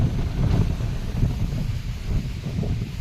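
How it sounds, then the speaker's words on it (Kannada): Strong gusty wind sweeps across an open farm field during light rain, with a loud, rumbling buffet against the microphone that rises and falls continuously. "ಗಾಳಿ ನೋಡ್ರಿ ಎಷ್ಟು ಬಿಟ್ಟೈತಿ."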